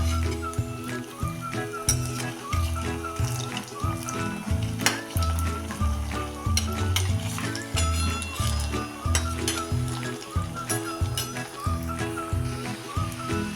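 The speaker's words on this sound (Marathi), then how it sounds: "उलटून पालटून असे टम फुगेपर्यंत हे वडे आपण असे चांगले तळून घ्यायचे आहेत" Sabudana vada, crisp tapioca-pearl fritters, frying in hot oil as they are turned, giving a loud, steady sizzle with occasional metallic clinks of a utensil.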